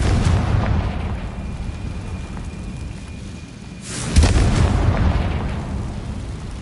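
A Confringo fire spell blasts in Hogwarts Legacy, a loud booming explosion that erupts suddenly and rumbles with debris for a couple of seconds, following continuous dense in-game rumble.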